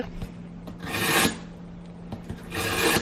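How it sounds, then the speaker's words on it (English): A blade rasps against a sharpening surface in two long grinding strokes, each building to a bright scrape, with light taps between. "Sharpening a knife my way."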